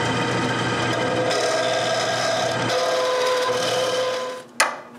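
A power sander grinds steadily against a handmade wooden cane, a close, continuous abrasive whir that eases off near the end before a sharp knock.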